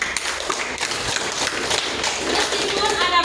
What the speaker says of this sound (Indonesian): Kita beri tepuk tangan buat mereka.